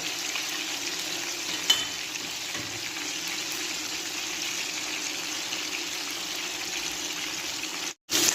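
Skin-on salmon fries steadily in a pan for a Filipino ginataang salmon dish, giving a loud, continuous sizzle with a brief spatter burst midway and a sharp cutout near the end before the sizzle returns.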